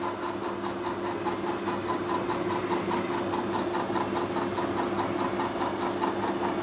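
Metal lathe taking an interrupted cut on a bronze valve taper, a steady mechanical hum with a fast, even ticking pulse as the tool strikes the side hole each revolution, moderately loud and close with no talk.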